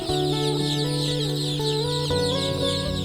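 Thai native chicks and chickens on a farm fill the air with constant, close, overlapping peeping and clucking, loud and unbroken throughout, with no talk.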